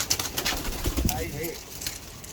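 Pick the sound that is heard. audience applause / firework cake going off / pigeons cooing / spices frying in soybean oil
pigeons cooing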